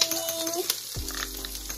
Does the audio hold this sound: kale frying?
yes